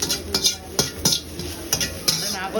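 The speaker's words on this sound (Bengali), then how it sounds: "ডিমটা পুরো সবজির সঙ্গে মিক্স হয়ে গেল" Egg being stirred with vegetables in a pan while cooking egg chowmein, heard as a series of scraping, clinking strokes of a utensil against the pan over a soft background sizzle.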